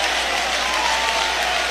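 Congregation applauding during a church service, a steady dense wash of clapping filling the room with a faint voice carrying over it.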